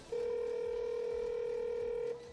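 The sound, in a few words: phone dialing in Ratchet and Clank video game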